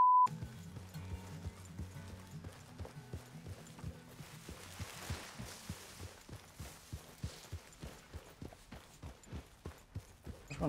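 Rhythmic clip-clop of horse hooves in Red Dead Redemption 2, steady and quick like a trot, growing more prominent over a soft background.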